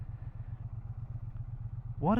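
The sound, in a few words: Triumph Bonneville T100 motorcycle engine idling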